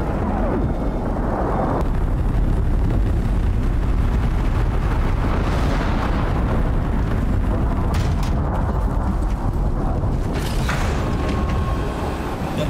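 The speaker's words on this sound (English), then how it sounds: "we're going to call our dropship to us" A dropship arriving in the survival video game Icarus brings a loud, sustained mechanical rumble and roar with creaking, booming textures. It stays steady throughout, with a few sharper bursts near the end.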